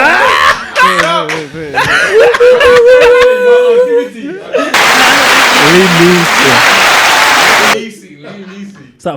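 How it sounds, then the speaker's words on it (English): A studio audience and hosts of a pre-drinks chat show break into a burst of clapping and applause lasting a few seconds, close and loud, with lively talk and laughter before and around it. "Hey, clap for that!"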